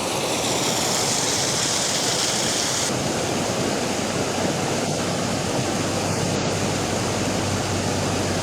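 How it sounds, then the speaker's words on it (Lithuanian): Water flowing over stone near a former steep waterfall, a dense, constant rushing roar, loud and close, with no voices. "Pažiūrėkit, vanduo iš begalybės akmens bėga."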